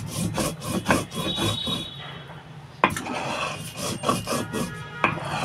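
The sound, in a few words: grinding salt and turmeric into a fine paste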